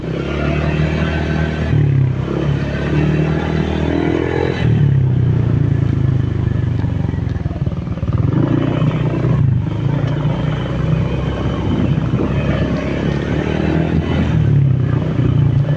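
Motorcycle riding along a rough, difficult road, a steady loud engine drone with low rumble, clattering and scraping from the bumpy surface, engine note rising and easing in places.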